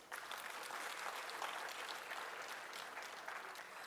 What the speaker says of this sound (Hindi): तो इस पॉजिटिविटी के लिए सबसे पहले आप सब तालियां बजाएं।